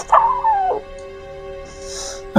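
A Cerberus zombie dog from Resident Evil gives a single whimper as it dies, a high, falling whine followed by a quiet pause and a short yelp at the end.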